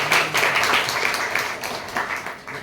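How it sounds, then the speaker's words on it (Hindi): Audience at an NDRF disaster-management training session in a Brahma Kumaris hall in Bhopal clapping together, a steady moderate wash of applause lasting a few seconds. "जोर जोर से सब तालियां बजाएं,"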